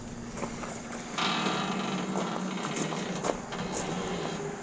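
Heavy spare tire tailgate on a Silverado prerunner swinging on freshly pressed, lubed bushings and pins, giving a soft mechanical creak and low grinding hum with a few small clicks.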